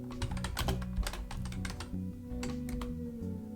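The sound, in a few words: typing on a computer keyboard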